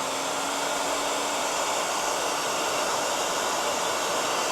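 A heat gun blows hot air onto a grubby old hose, a steady, continuous close-up whoosh of airflow with a faint motor whine, held unbroken with no talking.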